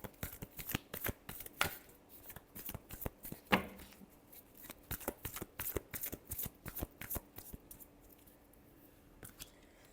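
Tarot cards shuffled close up in a quiet room, a rapid series of crisp riffling flicks and slaps coming in uneven bursts, with no voices.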